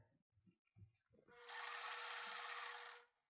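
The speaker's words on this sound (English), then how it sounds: "So as I'm sewing, I'm just going to stop, jump ahead about half an inch, and then continue to sew the tape down." Sewing machine stitching black bias tape onto black mosquito netting for camper van window screens. A few soft handling taps come first, then a steady, close mechanical whir runs for about a second and a half before stopping.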